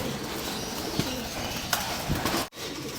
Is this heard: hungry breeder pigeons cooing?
yes